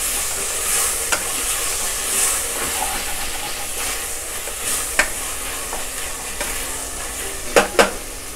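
Tomatoes sauté in a hot pan with a steady sizzle and hiss, while a spoon stirs and scrapes, giving occasional sharp clinks against the metal, close and alone without talk.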